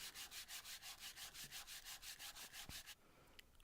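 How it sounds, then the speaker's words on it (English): Rapid rhythmic back-and-forth hand sanding of a wooden mallet handle with 80 grit sandpaper, close and steady, about six strokes per second, stopping abruptly near the end. "And a hand sanding for the handle."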